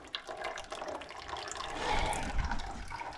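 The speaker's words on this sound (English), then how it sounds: "I'm draining the oil" Old, dirty oil drains from a disassembled engine with the pistons and rods removed. A close, faint, continuous trickle of liquid with small drips and splashes runs throughout.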